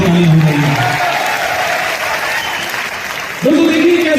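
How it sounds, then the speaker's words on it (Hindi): An audience at an anniversary event claps in a dense, steady burst of applause throughout, with a voice briefly speaking over the start and rising again near the end. "मुकेश जी के लिए एक बार जोर से तालियां हो रही है"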